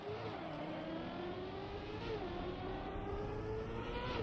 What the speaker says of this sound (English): I heard the gear just about to change. The RPM of the car was so low.